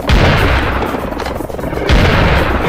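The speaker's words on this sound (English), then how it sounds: "I will use all my rockets to destroy these guys" Rockets launching in the shooter game Serious Sam, two loud booming blasts about two seconds apart, each with a sharp onset that fades into a rumbling tail.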